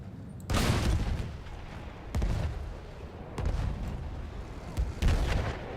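A field gun fires in the video game Battlefield 1: four or five heavy booming artillery blasts, loud and close, each rolling into a long rumble, with no talk.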